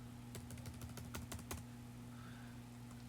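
Quick bursts of keystrokes on a computer keyboard while entering a math expression, a cluster of sharp clicks in the first half and then a steady low electrical hum with no talking.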